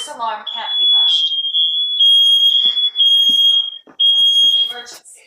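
A Nest Protect smoke alarm sounding, its piercing high, steady beeps interrupted by short gaps while the alarm's recorded voice speaks between and over them, close and loud.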